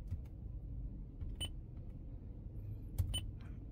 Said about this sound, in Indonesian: Bip ini suara yang seperti ini.